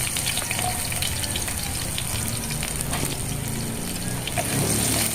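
Onion sautéing in a frying pan makes a dense, loud, continuous sizzle close by, with a faint rushing wash running underneath throughout.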